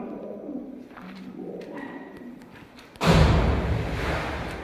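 Soft cooing of birds echoing inside the KGF gold mine, followed by a sudden loud thud of a thrown stone and a rush of rumbling noise.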